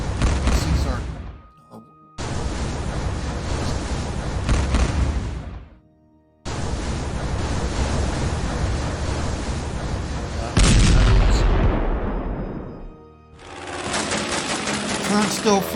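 Heavy artillery bombardment from the WW1 strategy game Strategic Command rumbles in long, continuous roaring barrages. Brief silent breaks separate the barrages, and all of it is loud and near.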